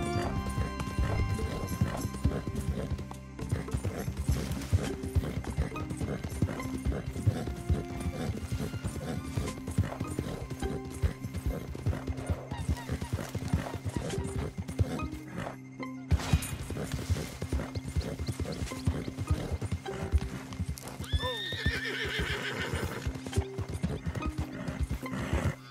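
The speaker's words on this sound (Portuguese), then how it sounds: "não sei como esse cavalo tá vindo comigo" A horse trots steadily through Red Dead Redemption 2, with continuous hoof clip-clop, occasional whinnies and neighs, and a dense rumble of game ambience and music, close and loud throughout.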